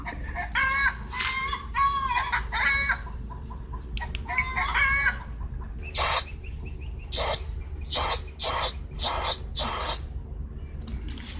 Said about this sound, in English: I'm going to spray into the fuel inlet of that carburetor and see if I can clean that out.